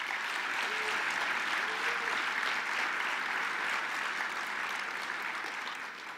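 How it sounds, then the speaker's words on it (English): A luncheon audience at the BEYA technology leaders and Veterans Day event gives award winners a sustained round of applause, a dense, even wash of clapping that carries on steadily and then begins to taper at the end. "I hope you'll join me in giving our winners one more round of applause"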